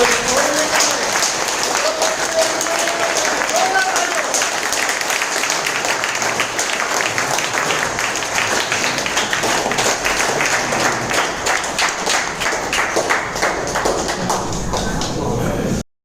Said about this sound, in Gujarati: બધા આપણા સિનિયર લીડરને જોરદાર તાળીઓ